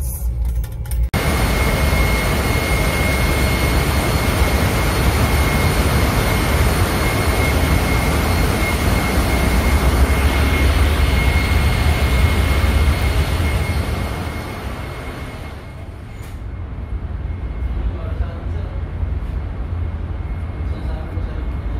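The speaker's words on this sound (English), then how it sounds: "Now, we are go to engine room." Steady, loud machinery roar fills a ship's engine room at sea, a constant broadband drone with a sustained whine, dipping slightly near the end before resuming.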